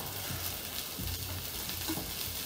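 Potato pieces are stirred into a sofrito in a pan for a simple potato and sausage stew, giving a soft, steady sizzle with faint scraping from the stirring, low and close.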